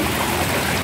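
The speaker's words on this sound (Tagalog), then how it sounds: "Lakas ng agos." A brief, loud burst of strong floodwater current rushing continuously with a dense broadband roar.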